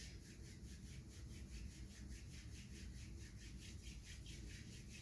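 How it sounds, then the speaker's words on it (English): Palms rub briskly together in a steady, continuous back-and-forth friction, a soft close-up swishing texture during a quiet yin yoga class, with no talking. "Rubbing them together until you feel like your hands are warm."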